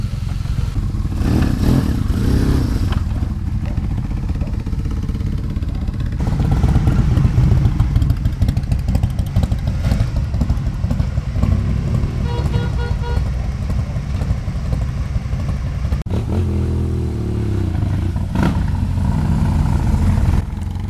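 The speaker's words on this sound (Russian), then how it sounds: "обратили внимание, как они подгазовывают на BMW?" BMW motorcycles with light flywheels sit idling and blip their throttles in a series of rough revs, the engine noise loud and continuous at close range for about twenty seconds.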